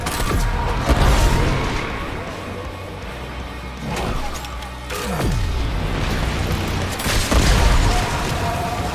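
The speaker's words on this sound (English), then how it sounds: "Whoa, that explosion was a little too close." Explosions during combat in the video game Warframe: several booming blasts and crashes, one near and loud around the middle, set over a constant rumble of background action with little talk.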